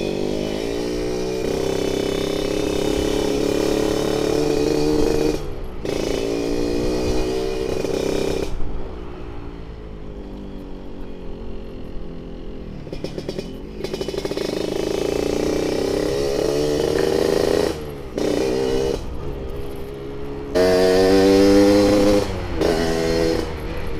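A Yamaha RX King motorcycle with a stock engine and daily porting on a test ride, its two-stroke engine buzzing and revving through repeated gear changes, with brief drops between pulls, close and loud.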